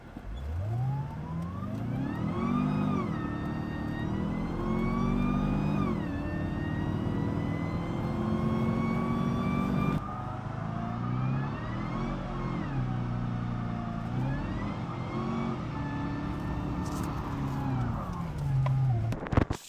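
A supercharged V8 Cadillac CTS-V sedan, second generation, revs and accelerates hard, its engine note climbing and dropping through repeated gear pulls, loud and close throughout with no talking.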